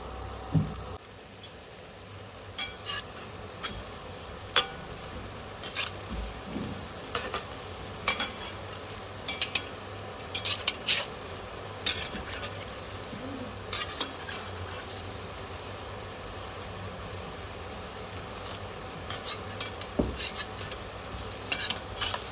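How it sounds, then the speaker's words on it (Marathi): Besan pakoda fritters fry in hot oil, with a low continuous sizzle under frequent sharp scrapes and clinks from a spoon or slotted ladle stirring the pan, steady and close, with no voices. "मस्त गरम गरम भजी आपण तेलामध्ये सोडून घेऊया"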